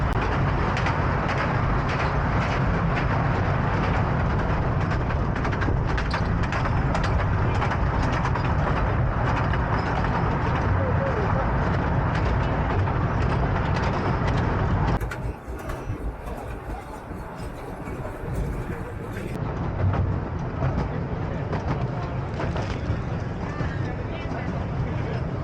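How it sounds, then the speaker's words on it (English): A small toy train at Elephanta Caves runs with a steady, continuous rumble and rattle of wheels on track, with faint voices underneath; the noise briefly softens midway. "The train has started."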